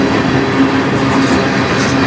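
Freight cars of a CN train roll through Sarnia, Ontario at night in a continuous loud roar, with steady wheel clatter and a faint tonal hum, heard up close and alone.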